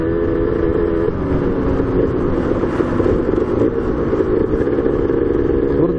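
A Kawasaki KDX 125 two-stroke motorcycle engine drones loud and constant while riding, its revs rising and falling slightly over a rough, buzzy rumble.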